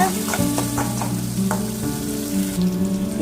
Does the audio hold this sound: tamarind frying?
yes